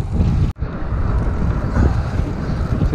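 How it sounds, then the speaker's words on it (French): A strong headwind buffets a small boat heading back to port, a loud, rumbling gusty roar of wind noise with a brief dropout near the start. The wind carries on alone without talk. "Et pour bien faire, on rentre avec le vent dans le nez."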